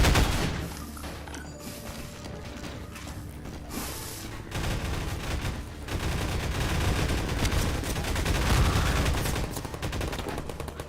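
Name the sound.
pulse rifle firing in video game Half-Life 2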